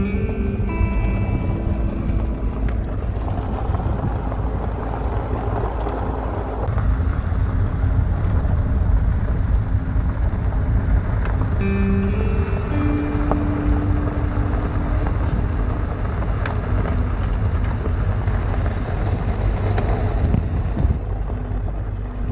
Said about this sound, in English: you're driving on lava rock, just crushed rock